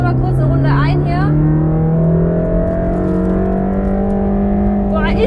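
Inside a Mercedes-AMG GT Black Series on a track, the engine roars loudly and steadily with rising and falling harmonic tones as it revs, with brief voices over the din.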